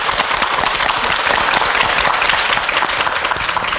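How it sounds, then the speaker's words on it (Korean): A studio audience on a Korean family TV show applauds steadily and loudly, a dense, continuous wash of many hands clapping with no voices over it. "응원 박수 부탁드릴게요"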